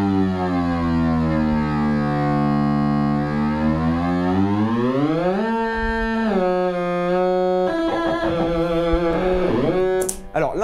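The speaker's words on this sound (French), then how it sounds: "si je vous fais écouter la note et que je fais défiler un petit peu les possibilités, ça donne quelque chose comme ça." Sustained fuzz pedal oscillator note, loud and distorted with dense harmonics, sweeping slowly down then stepping through pitches before a glitchy jump near the end; no voice over it.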